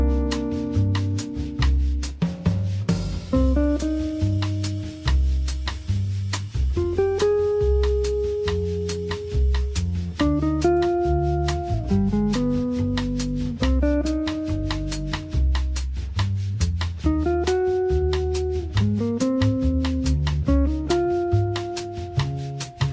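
A jazz guitar solo built from simple three-note interval cells plays over a backing track, with short melodic phrases and plucked notes above steady bass and drums, continuous and close with no talk.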